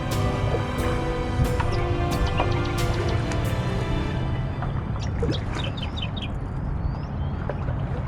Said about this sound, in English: We'll just listen for the birds again.